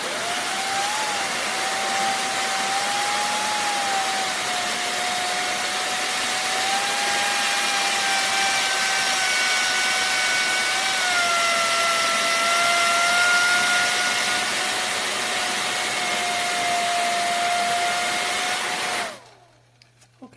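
A Laifen Swift hair dryer runs at high speed with a loud, steady rushing whir and a thin whine riding on top, holding for about nineteen seconds before cutting off abruptly.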